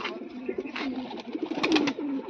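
Several pigeons coo repeatedly at a loft, their low throaty calls overlapping close by in a steady, continuous murmur with no talk.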